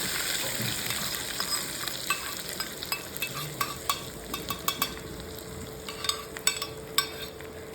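Garlic frying in a pan for achari chicken, a steady close sizzle running throughout with frequent sharp clicks and taps of a utensil stirring against the pan, and no voices.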